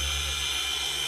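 A polisher buffs paint on a car hood, giving a steady high-pitched whine with a constant low motor drone, close and continuous with no pauses.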